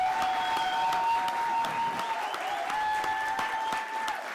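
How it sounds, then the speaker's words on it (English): Steady applause from a crowd at a product launch event, continuous clapping at an even level for several seconds, with a faint tonal hum underneath. "why don't we give a round of applause"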